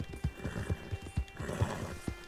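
A horse in the Red Dead Redemption 2 video game whinnies while its hooves clip-clop in a steady, close riding rhythm, with no talking.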